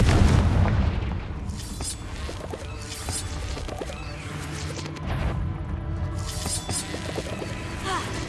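Confringo explosive spell blasts in the Hogwarts Legacy video game, heavy booming bursts with crashing debris over a continuous din of combat effects, one strong blast near the start and further thuds later.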